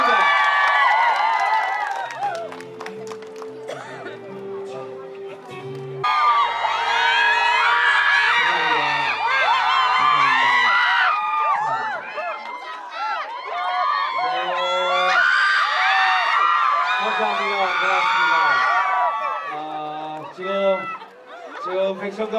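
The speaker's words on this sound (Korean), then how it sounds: "큰 박수 부탁드리겠습니다." A crowd at a public radio broadcast cheers, whoops and screams loudly for a singer, with shrill voices rising and falling throughout over a dense, continuous roar.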